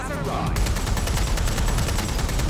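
Dense automatic gunfire in the video game Watch Dogs: Legion, rapid overlapping shots in a loud sustained fusillade following a brief sweeping whoosh at the start.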